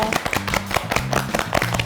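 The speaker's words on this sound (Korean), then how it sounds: "박수로 맞이해주세요." A small group gives a brief welcoming round of claps at a Korean IT company interview, with quick, close hand claps over a short burst and a faint background tone.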